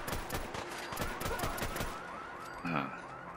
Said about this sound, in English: now we're testing out the FN F2000 assault rifles